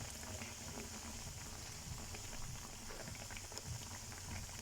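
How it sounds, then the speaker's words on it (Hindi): Soji (semolina) bread pakoras frying in hot oil give a steady, dense sizzle and crackle that stays even throughout, close but fairly quiet, with no talk over it. "इसको मैं एक दफ़ा फिर थोड़ा सा फ्राई होने के लिए रखूँगी।"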